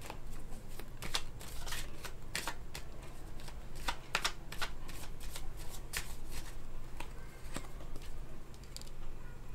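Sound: tarot cards being shuffled

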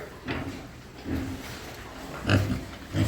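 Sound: piglets grunting

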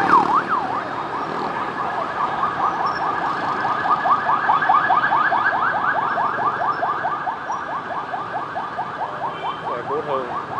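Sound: ambulance siren passing in the street

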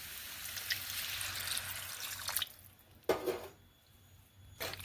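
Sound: water being added and stirred into vegetable curry

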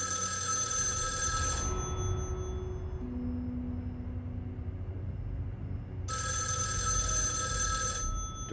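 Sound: telephone ringing in the video game Erica

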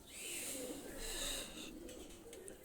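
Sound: pigeons cooing, red-necked high-flyer pair

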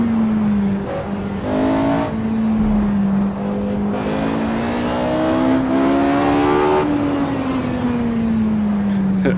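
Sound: Porsche 918 engine racing in Assetto Corsa video game

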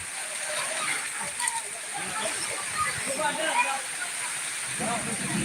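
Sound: heavy rain

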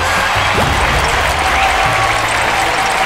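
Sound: applause in a Talking Tom & Friends cartoon

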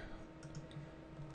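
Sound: computer mouse clicking

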